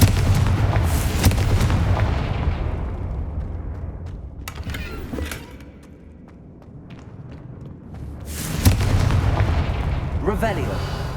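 The Confringo explosive spell in Hogwarts Legacy sets off a loud booming blast that rolls off and fades, then a second heavy explosion hits near the end.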